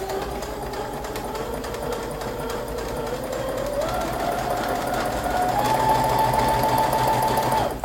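Sewing machine stitching a curved fabric seam, a close, steady rapid whir of the needle running continuously, its pitch rising in steps as the stitching speeds up.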